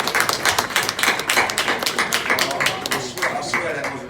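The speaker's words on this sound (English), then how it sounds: "we gotta give Mr. Eddie Hearn and Matchroom a round of applause for tonight" A room of people at a boxing press conference clapping in a round of applause, dense and continuous with sharp scattered hand claps, fairly close and loud.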